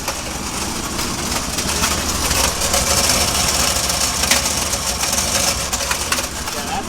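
A turbocharged 5.0 V8 in a Ford Ranger runs steadily at a rough, loud idle, close by, a constant rumble with a faint whistling tone over it and no clear revving.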